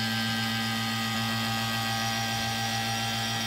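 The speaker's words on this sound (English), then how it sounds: "Turn on the vacuum." A vacuum pump for a metal casting setup hums at a steady low pitch with a constant whirring drone. It is close, moderately quiet and unchanging throughout, with no talking.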